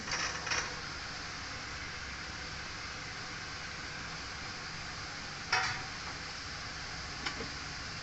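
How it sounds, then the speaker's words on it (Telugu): Carrots, tomatoes, beans and peas frying in a pan for vegetable pulao, a continuous even sizzle with a couple of brief clatters near the start and midway, close and steady. "ఇప్పుడు ఈ కూర ముక్కలన్నీ వేసేసుకుందాము క్యారెట్ టమాటా బీన్స్"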